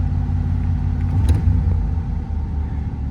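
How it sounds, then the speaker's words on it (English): A Z28 car engine runs at a fast idle, a steady low rumble close by with a brief flutter partway through, continuous and fairly loud without any talking. "Still a little faster idle than I want to back up with, so give it another moment."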